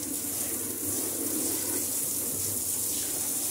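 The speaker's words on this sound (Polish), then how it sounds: "Ja sobie ustawię prysznic na ten strumień i to fajnie wszystko wymyję" A shower head set to a strong jet sprays water to rinse sand off beach items, a steady close hiss of running water with no voices.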